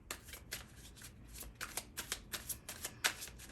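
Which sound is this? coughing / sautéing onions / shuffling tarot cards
shuffling tarot cards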